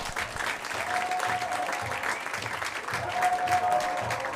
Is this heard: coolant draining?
no